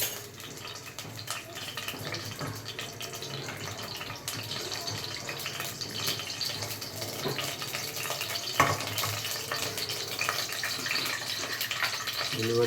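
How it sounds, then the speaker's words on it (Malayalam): Fenugreek seeds frying in hot coconut oil, a steady, fairly loud crackling sizzle that carries on without a break, with a few sharper pops and some stirring or clatter from the pan. "വെളിച്ചെണ്ണ ചൂടായി, അതിലേക്ക് കുറച്ച് ഉലുവ"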